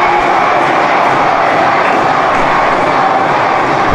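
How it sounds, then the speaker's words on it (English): A wrestling arena crowd cheers for Hacksaw Jim Duggan during his match against Psycho Sid, a steady dense roar of voices filling the whole stretch without pause. "Crowd cheering for Duggan here."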